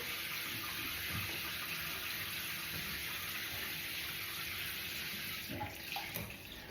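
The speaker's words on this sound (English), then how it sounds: "I've just got to clear the plug hole so I can get some of the water down." Bathwater running and gurgling steadily down a cleared plug hole after a dog wash, a quiet continuous wash of water with a couple of soft splashes near the end.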